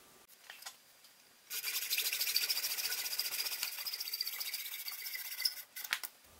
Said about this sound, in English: The hacksaw goes through it like a warm knife through butter.